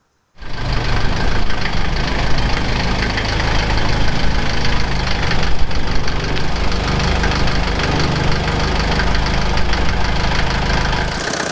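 Mercedes T2 van engine idling as it warms up to temperature, a steady, close, rumbling drone with a slight knocking texture that starts abruptly and runs evenly throughout.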